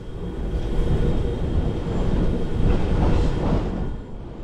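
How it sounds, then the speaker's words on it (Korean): Interior rumble of a newly designed train, number 63, running along a line high above a mountain range, a steady broadband roar with faint rhythmic rail clatter, close and continuous, fading slightly at the end. "하차 후 새로운 디자인을 한 63번 열차로 환승합니다"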